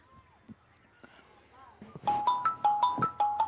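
After some quiet shuffling, an electronic phone ringtone starts, repeating a bright chiming melody at a steady pace, fairly close.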